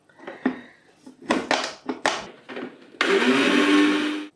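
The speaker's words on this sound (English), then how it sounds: "I'm gonna blend the whole bits of fruit." A smoothie blender whirring through whole pieces of fruit kicks in with a loud, steady roar after a few seconds of clattering kitchen handling sounds.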